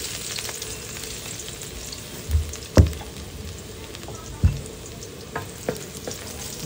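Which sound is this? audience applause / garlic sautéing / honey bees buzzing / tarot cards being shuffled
garlic sautéing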